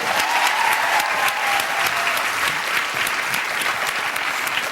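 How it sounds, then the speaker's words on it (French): A studio audience applauds a volunteer on a French comedy show stage, a dense, steady wash of many hands clapping throughout, loud and continuous with no talk. "On applaudit le volontaire."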